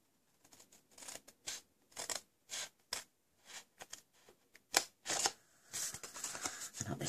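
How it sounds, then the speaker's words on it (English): Scissors snip around the corners of a patterned paper napkin-topped box, trimming up to the first score line: a string of short, crisp cuts at an uneven pace, close and fairly quiet, ending in a burst of paper rustling. "So now we're just going to trim up all 4 corners, or up to the first score line,"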